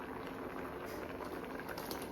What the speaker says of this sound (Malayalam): അപ്പം നമ്മൾ മുളക് പൊടി ഇട്ടിട്ട് അത് നന്നായിട്ട് തിളച്ച് വരുന്നുണ്ട്